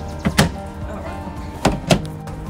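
A camper's separate screen door is worked twice, each time with a quick pair of light rattling knocks and clacks, close by and fairly loud, with a quiet pause between the two bursts.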